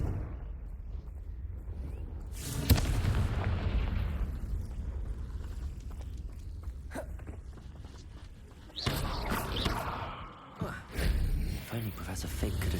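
A Confringo blasting spell in Hogwarts Legacy, cast while riding a broom, goes off with a sudden booming burst that rumbles away, followed later by a second loud eruption, with a voice talking in between.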